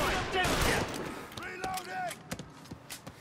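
Rifle gunfire in Mafia: Definitive Edition, a burst of rapid overlapping shots followed by scattered single cracks, with someone talking loudly over the action.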